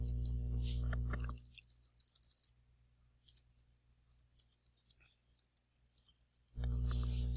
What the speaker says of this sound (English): if you want to get back into one of these titles, just click on it